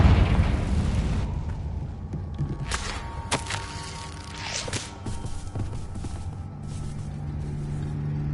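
A Confringo fire spell from Hogwarts Legacy on PS5 bursts with a heavy rumbling blast that fades over a second, followed by scattered thuds, cracks and lingering fiery debris noise.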